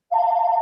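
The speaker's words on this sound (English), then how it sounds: "sorry about the phone in the background" A single short ring from a telephone sounds in the background of a meeting, a clear steady electronic tone that starts abruptly and cuts off.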